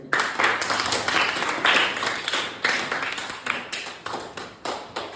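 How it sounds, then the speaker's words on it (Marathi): Group applause for a girl named Rohini after she solves a pen-moving puzzle, several rounds of clapping that swell and fade in bursts, close by. "रोहिणीसाठी एकदा टाळ्या होऊ द्या"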